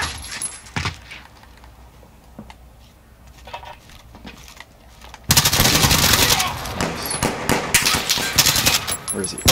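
Heavy automatic gunfire from a Modern Warfare Search and Destroy match erupts loudly after a quieter stretch, with dense rapid bursts continuing to the end while a player talks over it.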